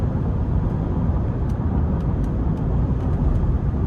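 A steady roar of wind and road noise fills the cabin of a 2020 Ford F-150 King Ranch 3.5 twin-turbo V6 pickup while driving, a constant low rumble with a faint airy hiss on top.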